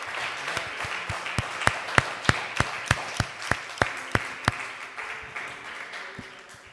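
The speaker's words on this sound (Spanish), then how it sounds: "¿Por qué no le damos un aplauso fuerte a papá?" Church congregation giving applause, a handful of sharp, evenly spaced loud claps standing out over softer scattered clapping that fades toward the end.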